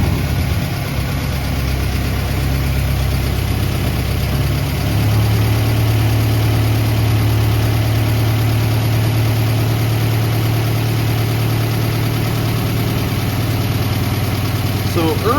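A freshly rebuilt Flatfender Jeep engine idles after startup, a loud, close, rough rumble that settles into a steadier hum after a few seconds, with someone speaking intermittently over it.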